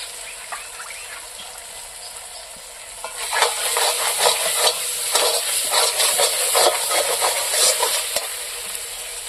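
Fish curry gravy thinned with mustard paste water simmers and bubbles in a pan. A soft hiss is heard first, then a louder spattering boil of steady crackles and pops rises midway and continues to the end.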